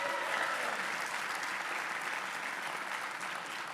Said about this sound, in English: let's give Ted a round of applause